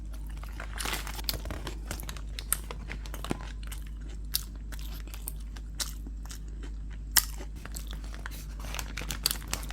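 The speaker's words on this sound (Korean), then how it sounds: "햄버거를 먹어 치웠는데요" Someone bites and chews a handmade hamburger with a fresh butcher-made patty and a soft bun, close to the mic: soft crunches, wet chewing and crinkling paper wrapper, with scattered louder bites over a low steady hum.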